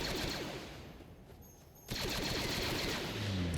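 Rapid automatic gunfire from a blaster in the Disney Infinity Force Awakens playset, a dense unbroken burst that drops away briefly and then resumes just as loud and fast, with no talking.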